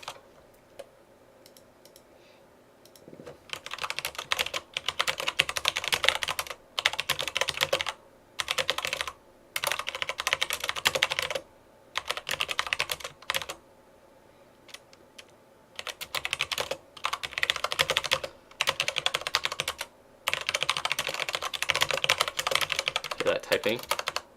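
Rapid clattering keystrokes on a computer keyboard during a Dota 2 gaming session come in repeated bursts of a few seconds each, separated by short pauses, close and fairly crisp over a quiet background.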